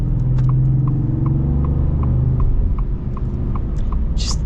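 A deep V8 engine of a new Ford F-150 pickup drones steadily from inside the cab as the truck accelerates, with a faint rhythmic ticking over the low rumble.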